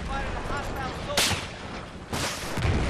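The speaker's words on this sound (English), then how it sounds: "snipers are taking shots at me" In Battlefield 4 on the Gulf of Oman rush map, two sharp, loud sniper shots crack about a second apart over steady battlefield rumble and distant gunfire.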